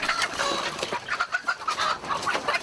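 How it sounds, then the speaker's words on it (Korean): Chickens clucking at a poultry farm in Cambodia, with many birds close by keeping up a steady, busy chatter of overlapping clucks. "그의 집에는 캄보디아에서 보기 드문 양계장이 있다."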